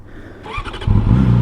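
A 2019 Yamaha R6 motorcycle engine catches after a short mechanical whir and settles into a loud, close, rumbling idle that fills the rest of the short moment, no talking.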